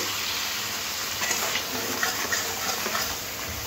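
Ground spices with a little sugar and water fry in a pan for ol chingri dalna, a prawn and elephant-foot-yam curry; a steady sizzle runs under light stirring taps, with no one talking.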